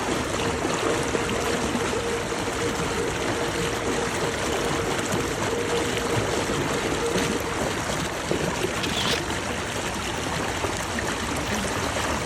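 A Takacat inflatable boat runs at full speed on an Epropulsion electric outboard, giving a steady close rush of water and hull splashing with a constant broadband wash and no voices.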